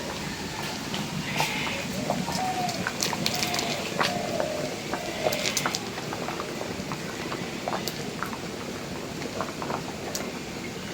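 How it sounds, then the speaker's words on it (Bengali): Rice for vegetable khichuri boils in a pot with a steady, close, crackling bubble and hiss that continues evenly throughout, with faint talk at times. "চাউল প্রায় ফুটে গেছে নরম হয়ে গেছে"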